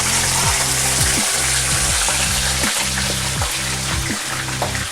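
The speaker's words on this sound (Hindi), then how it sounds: "अब मैं इसको निकाल के फ्राई कर लूँगी।" Steamed Lahori chargha chicken frying in hot oil, a loud steady sizzle and bubbling hiss that runs unbroken throughout, with faint low tones recurring beneath it.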